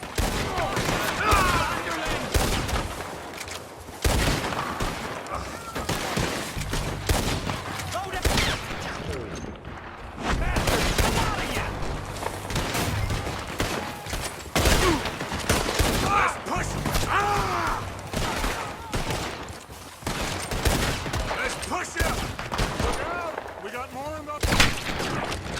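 Gunfire in a shootout in the video game Red Dead Redemption 2: dense, repeated rifle and pistol shots, some close and loud, others farther off, in irregular bursts throughout, with people shouting amid the battle.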